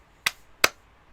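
Two sharp hand claps, close and crisp, spaced about a third of a second apart against near silence.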